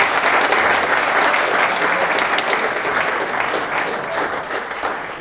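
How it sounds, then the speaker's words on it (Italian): Audience at a volleyball coaches convention applauding after morning sessions, a loud, steady, dense round of clapping that tapers slightly toward the end. "give a big round of applause to our four speakers for this morning's excellent sessions"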